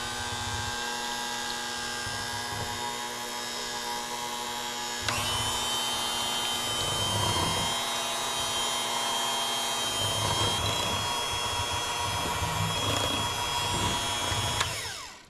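Lemon icebox pie filling of eggs and lemon juice being mixed, a steady motor whine and hum running throughout with a shift in pitch partway, no talking.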